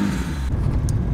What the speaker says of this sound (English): the exhaust is pretty loud in this car